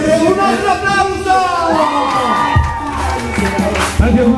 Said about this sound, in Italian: Come sempre, un altro applauso!